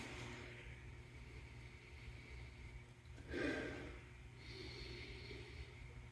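A single loud sniff at a giant foamy head on a poured IPA, a short breathy burst in the middle of an otherwise quiet stretch with faint background hum.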